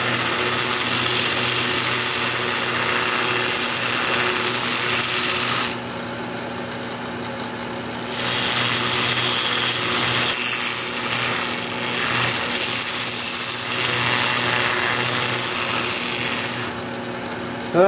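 A wood lathe turns a piece of manzanita at about 900 RPM, giving a steady, loud mechanical whir with a constant hum, with brief dips as the tool lifts off the wood.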